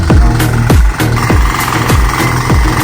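A mini tiller engine running steadily after being started, a loud close chugging drone with regular heavy thumps about every half second.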